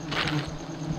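Honey bees buzz around a giant honeycomb high in a tree, a brief close drone rising and wavering over a constant hum, with no voices.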